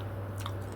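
Close, steady chewing of fermented Korean squid mixed with kimchi, soft wet mastication and biting over a constant low hum, with no talking.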